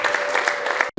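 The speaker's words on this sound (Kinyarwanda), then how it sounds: "Bakongera amashyi." Wedding guests clapping together for Ferdinand and Grace, a steady dense patter of many hands close by that runs continuously before breaking off abruptly near the end.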